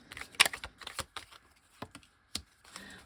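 Tarot cards drawn one by one from a deck, giving several short, crisp card flicks and shuffles, close and fairly faint, spread unevenly across a quiet room.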